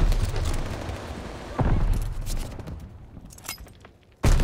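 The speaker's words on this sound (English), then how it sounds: "Tossing grenade!" A video game grenade goes off as a loud, close boom amid ongoing gunfire, with a dense burst of battle noise at the start that fades before another sharp blast at the end.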